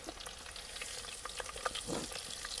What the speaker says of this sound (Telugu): సో ఇప్పుడు అంజలి ఆనియన్స్ వేస్తుంది